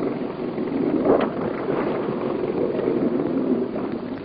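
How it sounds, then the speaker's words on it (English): A 32-foot navy motor cutter boat runs at about 8 knots, a steady, muffled engine drone mixed with water and wind rush, continuous and moderately loud, with no speech. "The 32-foot motor cutter does about 8 knots too."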